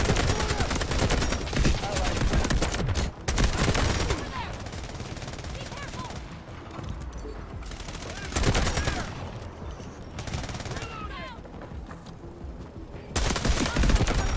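Battle rifle gunfire in the shooter game Delta Force: loud, dense bursts of rapid shots and fusillades come in waves, with quieter gaps between, close and forceful.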